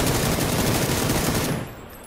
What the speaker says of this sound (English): Some decoy grenades.